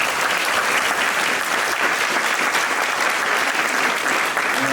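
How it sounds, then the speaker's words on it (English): A federal all-candidates forum audience on the Sunshine Coast breaks into loud, sustained applause for the candidates, a dense even wash of clapping that fills the room for several seconds with no voices over it. "Let's give them a round of applause"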